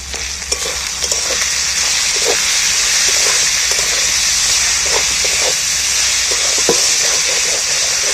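Jackfruit curry with spices fries in a pan, giving a loud, steady sizzle and hiss with occasional stirring scrapes throughout, no talking.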